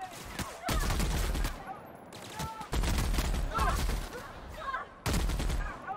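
Bursts of automatic gunfire in the video game The Outer Worlds, several loud sustained volleys separated by short gaps, with brief game voices and effects in between.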